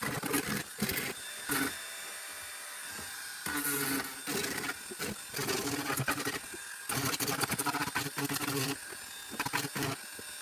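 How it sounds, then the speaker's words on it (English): Sandpaper deburring the edges of plastic cut with a RotoZip tool, a steady rhythmic scraping in repeated strokes with short pauses between, close and fairly loud. "got to get a little sandpaper on there and clean it up a little bit"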